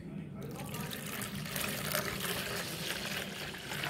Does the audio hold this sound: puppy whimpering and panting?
no